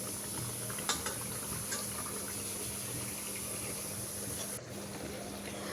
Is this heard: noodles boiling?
yes